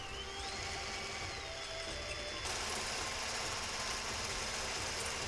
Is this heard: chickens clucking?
no